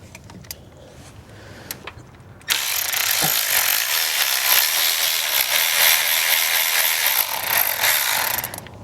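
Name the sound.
ratchet with 10mm socket removing ignition coil bolts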